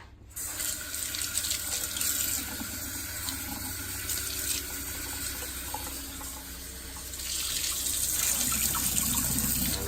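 Tap water runs into a kitchen sink for rinsing raw chicken, a steady close splashing stream that grows a little louder toward the end.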